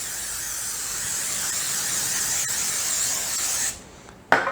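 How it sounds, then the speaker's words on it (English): Cooking spray hisses steadily into a 12-inch loaf pan for about four seconds, close and loud, then cuts off and is followed by a sharp knock. "I'm going to spray it really good."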